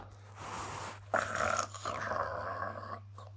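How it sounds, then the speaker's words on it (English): A saber-toothed tiger growls low and rumbling in the game Crashlings in Space, a continuous throaty snarl over a steady low hum. "Whoa, it's a saber-toothed tiger."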